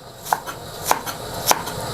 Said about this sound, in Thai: มาหั่นหอมรอเลย